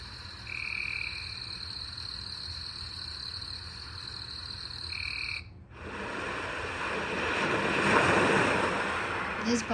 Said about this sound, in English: It's the beach, and waves, the rain.